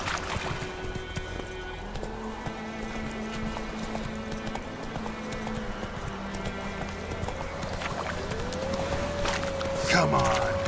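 Horse hooves gallop in The Witcher video game, a steady close clip-clop rhythm running throughout over low ambient game sound, with a rising tonal sweep near the end.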